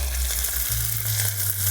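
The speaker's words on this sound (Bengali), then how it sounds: "এবার দিয়ে দিচ্ছি কুচিয়ে রাখা টমেটো।" Chopped tomatoes tossed into spices frying in oil for mutton fat ghugni, a dense close sizzle that holds steady throughout a brief moment, with no voices.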